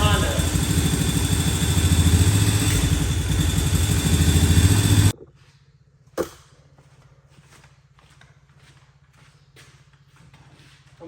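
A beat-up Honda ATV engine runs loud and close with a rough, throbbing idle for about five seconds, then cuts out abruptly, leaving a sharp knock and faint ticking and shuffling noises.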